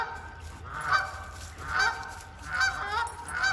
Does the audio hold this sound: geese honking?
yes